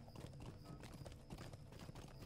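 A horse's hooves clip-clop at a steady trot in the video game LOTRO, a continuous run of even, moderately loud hoofbeats.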